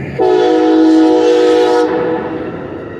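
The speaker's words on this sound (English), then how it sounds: "There's a train." Loud, close train horn sounds a sustained multi-tone blast for about a second and a half, then cuts off, leaving the steady rumble of rail cars rolling past at a street crossing in Carbondale, Illinois.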